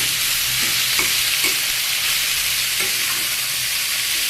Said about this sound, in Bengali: এর ভিতরে আমি চিচিঙ্গাটা দিয়ে দেব। জিরে ফোড়ন দিয়ে করলাম আজকে।